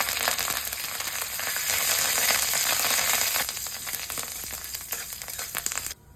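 Curry leaves hit hot oil with mustard seeds and sizzle in a loud, steady crackling hiss that holds for several seconds before easing slightly near the end.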